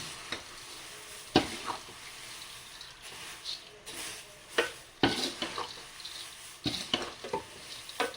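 Puffed white jowar seasoning is tossed and mixed by hand in a pan on the stove, making dry rustling and scraping bursts in an irregular rhythm over a faint sizzle, heard close and alone.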